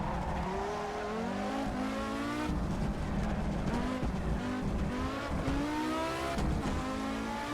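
Audi Quattro S1 rally car driven hard in Assetto Corsa on the Highland circuit, its engine revving up and down through gears with tire squeal, loud and continuous with no talk.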